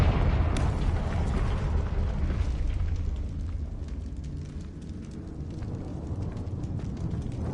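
A Confringo fire-blast spell in Hogwarts Legacy erupts in a loud, rumbling explosion that keeps booming and roaring through the whole stretch, heavy low-end and steady, with no voices.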